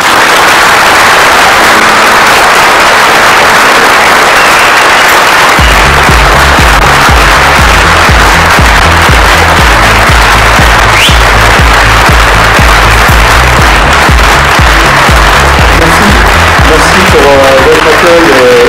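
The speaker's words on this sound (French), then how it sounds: "Et vos applaudissements." A crowd at a municipal campaign evening in Guyancourt applauds at length after a speech, a thick, loud wash of clapping that runs throughout, joined partway by a low pulsing backing tone.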